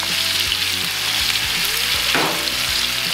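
Garlic frying in generous butter in a pan alongside steak, giving a steady, close, dense sizzle that crackles continuously with no talk over it.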